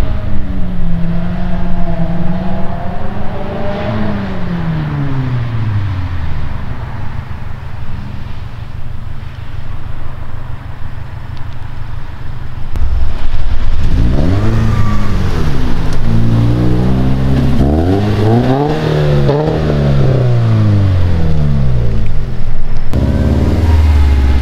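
A Nissan Skyline GT-R R32 engine revs repeatedly, heard from outside the car, pitch rising and falling in sweeping waves, loud and close, with a steady idle rumble between bursts.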